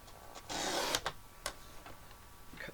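A paper trimmer slices off a piece of paper: a short, faint swish of the blade followed by a few light clicks, close and quiet.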